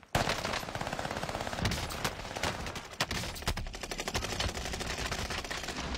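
A machine gun fires in the Modern Warfare 2 video game, a dense, loud stream of rapid automatic shots that continues almost unbroken with several short pauses.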